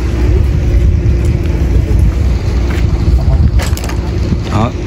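A steady mechanical rumble and hum as a boat damaged in a collision is winched up a slipway, with gusty wind buffeting the microphone throughout.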